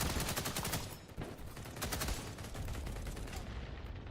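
AK rifle gunfire in a tactical combat video game, a dense, loud burst of rapid automatic shots blending into continuous noisy clatter across the whole stretch, with a brief dip before it resumes.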